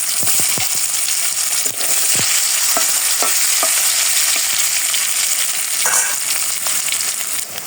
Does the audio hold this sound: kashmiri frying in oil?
yes